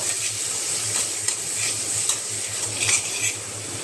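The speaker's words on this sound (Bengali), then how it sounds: "এবার সমস্ত মশলাকে একসাথে ভালো করে মিশিয়ে নেব" A spoon stirs salt, turmeric and tomato together in a hot pan for egg curry, giving soft scraping and light metallic clinks over a low, continuous sizzle. No one talks.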